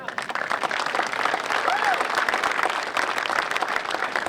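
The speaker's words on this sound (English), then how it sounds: "Let's give him another round of applause." Audience applause rings out at a park grand opening, a dense, sustained burst of many hands clapping from a sizeable crowd, loud and continuous throughout.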